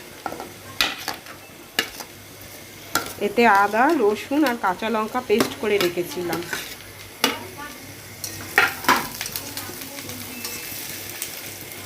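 Potatoes and onions fry in a pan with a steady sizzle, broken by the scrape and clatter of a utensil stirring. A person talks over the cooking.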